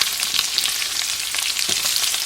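Meat browning in a frying pan gives a steady, loud, close sizzle with crackling spatter throughout, no voices over it.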